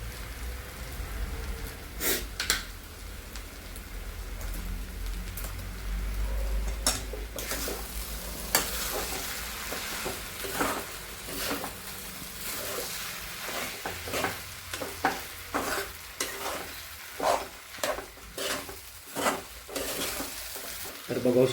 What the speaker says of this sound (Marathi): आता आपण खालून वरून सगळीकडे किसला आपण बटाट्याच्या करपून घ्यायला नको म्हणून फिरवतोय